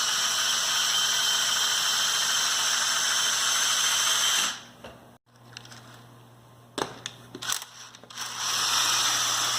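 A motorized Lego Technic 1983 Ford Mustang gearbox whirs steadily and loudly, drops to near silence, gives a few sharp clicks and clunks as gears change, then the whirring resumes.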